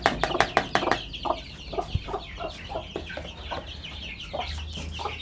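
Chickens and small chicks at a poultry breeding pen, with a Siam rooster among them, cluck and peep in quick, uneven bursts, some calls loud and close, with a faint low hum underneath.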